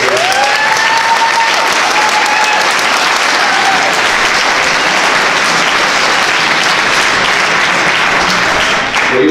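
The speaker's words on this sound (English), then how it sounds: "you guys are easy to get applause from." Audience applause at a city council organizational meeting, steady dense clapping filling the room for several seconds before tapering off at the end.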